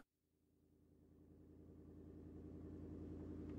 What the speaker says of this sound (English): The low purr of a car engine far off in the distance.